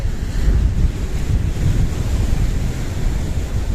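Sea waves surge and break against the rocks at Kato Paphos Harbour in Cyprus, a steady loud roar of churning surf mixed with gusty wind buffeting the microphone, with no voices.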